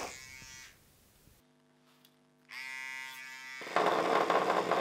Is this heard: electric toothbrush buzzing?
yes